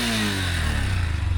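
A 2025 Honda CB200X motorcycle engine revs up toward about 10,000 RPM, a brief, loud, close mid-pitched engine drone with a rising tone.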